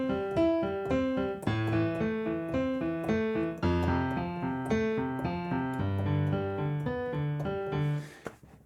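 Piano playing a repeating note-pattern sequence that steps through several starting positions, steady and clear with sustained chords underneath, alone and without any talking.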